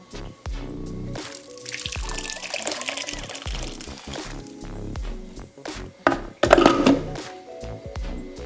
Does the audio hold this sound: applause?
no